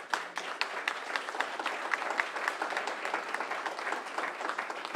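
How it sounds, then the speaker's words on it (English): A crowd at a graduation ceremony applauds steadily throughout, dense clapping from many hands at moderate distance, with no voices standing out. "A round of applause, please."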